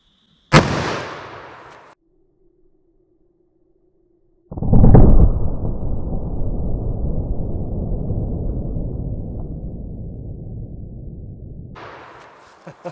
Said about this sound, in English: Let's see how that 44 Magnum compares in the gel.